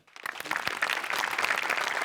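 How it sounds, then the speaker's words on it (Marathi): Audience applause at a Marathi TV comedy show, Maharashtrachi HasyaJatra, rising quickly from a quiet start into steady, dense clapping from a studio crowd that holds for about two seconds. "तुझ्या अटेम्प्टसाठी टाळ्या व्हायला पाहिजेत."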